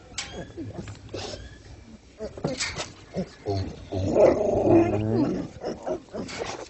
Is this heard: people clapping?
no